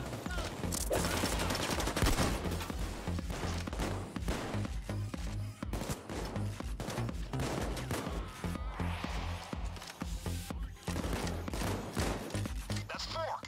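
Continuous gunfire in Payday 2, with dense overlapping shots and thumps over a steady low game soundtrack that runs throughout.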